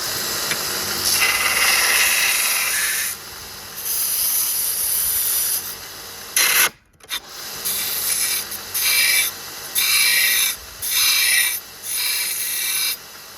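A small bench work grinder roughs out the shape of a knife blade from old spring steel, a loud continuous rasping hiss broken into repeated passes with brief pauses as the steel is lifted and pressed again.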